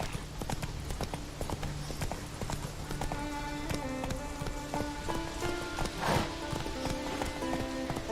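Horse hooves gallop in a steady clip-clop rhythm in The Witcher 3 video game, close and continuous under game music with tonal notes, plus a sharp swell near the end.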